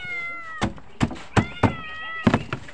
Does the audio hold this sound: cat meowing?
yes